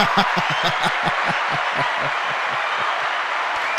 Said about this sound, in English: I do have applause, don't I?